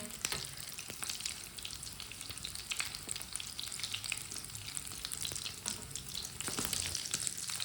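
Potato snacks frying in a pan over a lowered flame give a dense, continuous crackling sizzle that holds steady for several seconds, close and even, with faint spatters and no voices.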